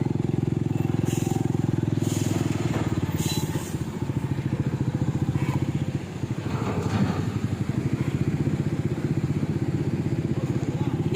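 A motorcycle rides along a road with a steady, loud engine drone and rattling clatter throughout, with brief sharper noises now and then and some faint talk mixed in.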